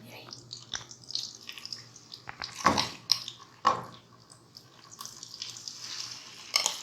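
Milk-soaked semolina being slowly poured into hot ghee for halwa, giving soft wet sizzles and splashy bursts, with a few sharper spatters, close and fairly quiet.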